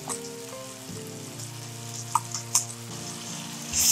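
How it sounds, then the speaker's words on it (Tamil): Ground masala paste sizzling in hot oil in a pan for country chicken curry, a steady bright frying hiss with a few sharp spatula clinks and stirring scrapes, close and moderately quiet, with no voices. "இப்போ நம்ம அரைச்சி வச்ச பேஸ்ட் எல்லாம் போட்டிருக்கோம்."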